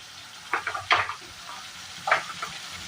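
Ginger and ground spices fry in a pan for an Indian jackfruit kofta curry, with a low sizzle and a few brief bursts of scraping stirring, close and soft, with no talking.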